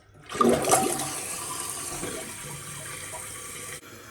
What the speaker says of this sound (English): we'll do a quick flush test and check and see how it works